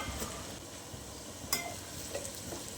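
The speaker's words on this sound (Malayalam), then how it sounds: "ഇഞ്ചിയും വെളുത്തുള്ളിയും ചെറുതായിട്ടൊന്ന് വഴറ്റിയെടുക്കാം." Chopped ginger and garlic sautéing in oil in a pan for tuna pickle. The sizzle is low and continuous, with a few light clinks of a stirring spoon.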